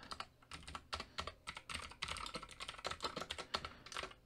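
Someone types code for a p5.js sketch on a computer keyboard: quiet, close, rapid and uneven key clicks in short bursts with brief pauses, and no speech.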